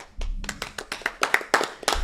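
Hands clapping at a Christian faith conference, a quick series of about a dozen sharp claps in an uneven rhythm, fairly close and alone.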